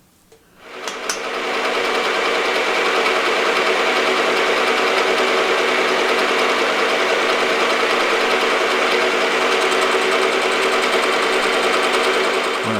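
A milling machine spins up and runs while an edge finder is used for centering, a steady loud high-pitched whirring drone that holds constant after a brief start-up, with no talking.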